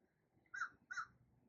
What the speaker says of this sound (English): maybe you hear the birds cheering in, crows, there's always crows whenever we do